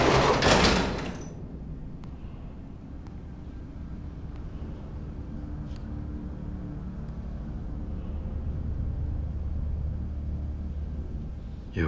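A sliding door aboard the Battlestar Galactica opens with a short loud whoosh at the start, then gives way to a low steady ship hum.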